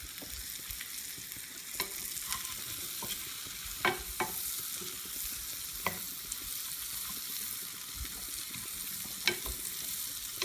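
Mushrooms fry in a pan with Marsala wine and vinegar, giving a constant bright sizzle and crackle, with occasional stirring clicks and scrapes close by.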